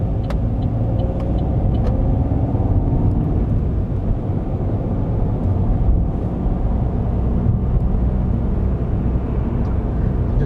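A car drives on Naas-area roads during a driving lesson, turning right at a roundabout, and gives a steady, loud, continuous road and engine rumble throughout with no talk.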